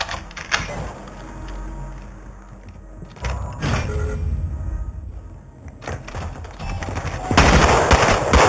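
Automatic gunfire rattles in the DMZ video game, with sharp bursts and single shots breaking out at intervals amid thumps and a heavier burst of fire near the end.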